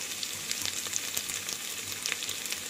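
Onions and drumsticks frying for sambar in a clay pot give a steady, fairly quiet sizzle with scattered small pops and stirring clicks, and no talking.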